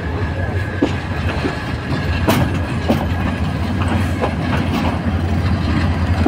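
A train rolls into Parbatipur railway station, a constant loud rumble of rolling stock close by with irregular clicks and clacks of wheels over rail joints throughout.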